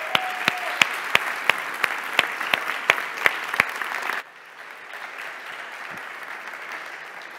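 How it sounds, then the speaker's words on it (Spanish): Audience applause at a talk on the La Palma volcanic eruption, with a dense patter of clapping and sharp regular accents for about four seconds, then dropping to a faint room murmur. "Un aplauso."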